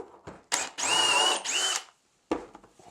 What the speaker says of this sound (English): while I drill the next hole